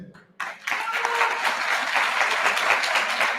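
Standing applause fills a party congress hall: after a brief lull, a dense, steady wave of clapping from a large crowd builds quickly and holds loud and even.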